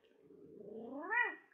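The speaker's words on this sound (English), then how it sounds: "Meow." A cat meows once, a drawn-out call that rises in pitch and then falls away at the end, fairly close and alone with no talk.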